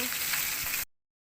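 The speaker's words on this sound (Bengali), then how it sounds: "মাছগুলো উল্টে দিলাম, লাল লাল করে ভেজে নেব।" Rohu fish pieces frying in oil give a steady, close sizzle that holds evenly for under a second before cutting off abruptly into silence.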